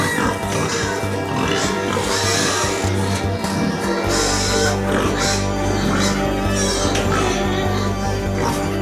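Pigs oink and grunt steadily at a farm in Togo, fairly loud and close, under a constant hum with voices mixed in.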